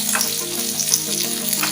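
Chilies and onion sauté in a hot pan for a spicy okra (lady's finger) fry, a steady close sizzle with faint stirring and no talk.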